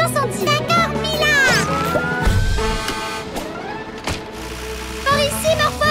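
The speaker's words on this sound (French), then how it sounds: "Morphle, on va avoir besoin d'un gros camion de pompiers pour combattre cet incendie" A cartoon fire engine siren wails in rising and falling sweeps, loud and close, while characters speak over it and rumbling noise sits underneath.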